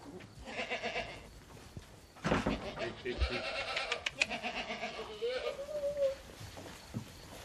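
Goats bleat on a French farm that makes goat cheese in Lot-et-Garonne, several wavering calls mixed with people talking nearby.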